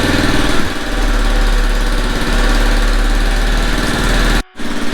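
A Yamaha Zuma scooter's small engine idles loudly and steadily up close with a buzzing, slightly uneven putter, with a brief dropout near the end.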